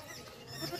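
A goat, a dairy animal kept on a farm, gives a short bleat that comes across faint and slightly distant within a very brief stretch, with no talking.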